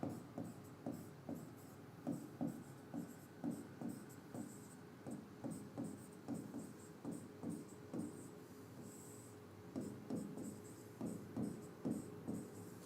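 Chalk or marker strokes writing equations on a lecture board, a steady run of short scratchy taps and swipes in quick bursts with brief pauses, close and fairly quiet, with no talking.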